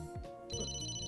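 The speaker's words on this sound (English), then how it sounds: "Oh, am I getting a phone call?" A phone rings in the video game Emio - The Smiling Man, a short electronic ringtone melody with bright, steady tones, heard alone with no voices.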